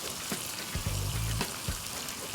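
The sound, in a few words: tomatoes frying and sizzling in a pan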